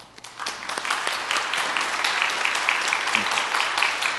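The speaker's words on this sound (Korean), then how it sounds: "자리에서 일어나실 때 우리 환영의 박수로 맞이하겠습니다." A church congregation at a Sunday service bursts into warm applause to welcome newcomers, rising quickly from quiet into a full, sustained clapping that fills the room.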